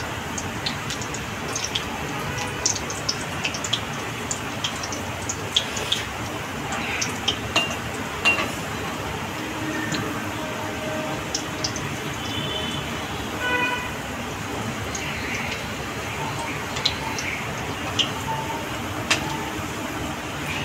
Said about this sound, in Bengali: দেখুন আমি লো ফ্লেমে ভাজছি